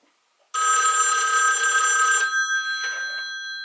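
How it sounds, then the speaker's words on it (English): A new rotary home phone gives a loud, close metallic bell ring for almost two seconds, then goes quiet for a moment before a short second burst of ringing that fades out. "You successfully answered our new rotary phone"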